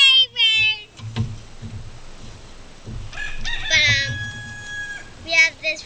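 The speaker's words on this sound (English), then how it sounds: "The chickens are running back there." Backyard chickens cluck and a rooster crows nearby, with loud crowing calls at the start and scattered clucks and squawks later, while people talk in between.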